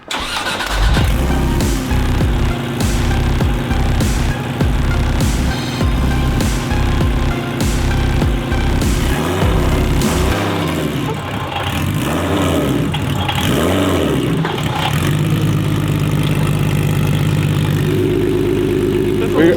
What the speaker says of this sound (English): You can really hear the engine.